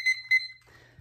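A CHICWAY digital kitchen and classroom timer sounds its alarm: two short, bright electronic beeps in quick succession, clear and fairly close, followed by quiet room tone.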